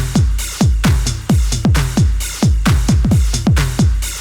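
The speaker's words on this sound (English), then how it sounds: "it says hat, but they are actually toms, also from the 909 kit" Electronic toms from a 909 drum kit hit in a steady run of punchy, booming strikes with quickly falling pitch and short tails, loud and dry with no voices.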